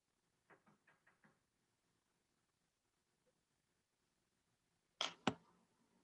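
Knocking on a hovel door staged during a play reading: a quick run of five light raps, then after a pause two sharp, loud bangs, in an otherwise quiet room with no talk.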